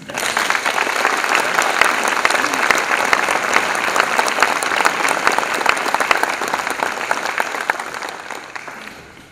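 An audience at a municipal ceremony in Žirovnica applauds a golden graduate receiving the mayor's award, a steady, full wash of many hands clapping that holds for nine seconds before tapering slightly at the end.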